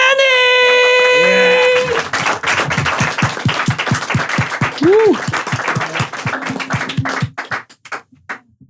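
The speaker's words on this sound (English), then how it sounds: "Everyone put your hands together for the amazing Jenny!" Loud applause and whoops for a performer named Jenny at an LA podcast special, starting after a tonal musical sting, with rhythmic claps and a cheering voice over it, thinning toward the end.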